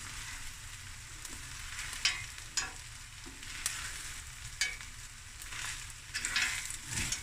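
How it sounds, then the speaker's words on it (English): Rice and mussels are stir-fried in a pan, with a soft continuous sizzle broken by repeated scraping and tossing of a spatula, fairly quiet and close. "Stir fry it for a few minutes and then it's done."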